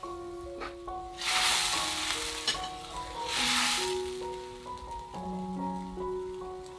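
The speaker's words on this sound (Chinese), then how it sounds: "开大火，用大火炙热的温度来炖豆腐。" Mapo tofu simmering in boiling sauce over high heat, a soft bubbling sizzle that swells and fades, with faint musical tones playing over it.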